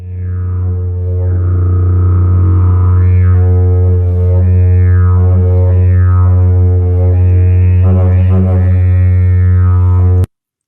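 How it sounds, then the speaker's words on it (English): A didgeridoo sounds a loud, continuous low drone with rich overtones, its tone shifting in repeated vowel-like sweeps for about ten seconds before stopping abruptly. "That was the sound of the didgeridoo,"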